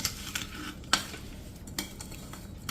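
Spices being stirred into a lemon pickle, with a few sharp spoon scrapes and clinks against the container over a soft, steady rustle of mixing, close and fairly quiet.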